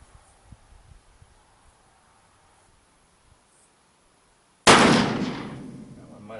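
A single loud, close shot from an 1858 Pietta black-powder revolver loaded without lube or wads, a sharp blast after a few seconds of quiet handling, then a long rumbling decay outdoors.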